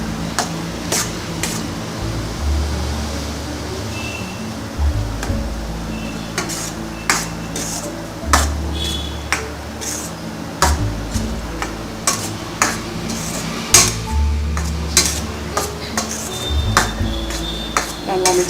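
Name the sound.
stirring boiled snake gourd kootu in a pan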